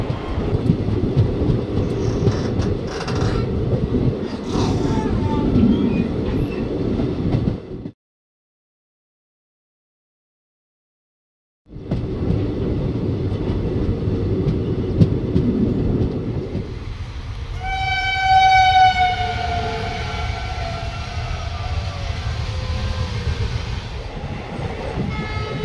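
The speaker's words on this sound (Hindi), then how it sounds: "और दोस्तों हमारी ट्रेन मदन महल स्टेशन पहुंचने वाली है।" Passenger train running on rails between Nagpur and Jabalpur, with a steady loud rumble and rattle of the carriages that drops out briefly, then returns with a long horn blast sounding over the rolling noise.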